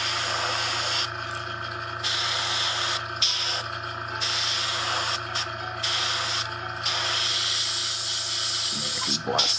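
Aerosol spray paint hisses in long, steady bursts onto miniature bases, several sprays with brief pauses between them, close and loud over a constant low hum.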